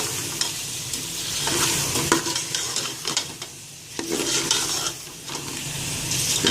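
Goat head meat for siri paye being stirred and fried, a close sizzling hiss broken by frequent scraping and clattering strokes of a spatula against the pan.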